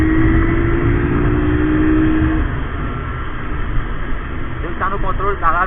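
A Honda CG Fan 125 motorcycle engine revs on a Sunday street ride, a steady, loud, rough drone with a rising whine early on, while a voice talks over it.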